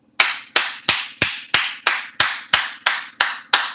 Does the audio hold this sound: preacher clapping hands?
yes